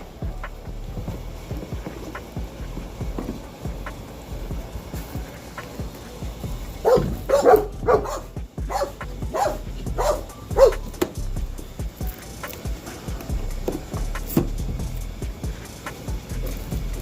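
Dogs bark repeatedly outdoors, several loud, close barks clustered in the middle over a continuous low background rumble, with scattered quieter yips before and after.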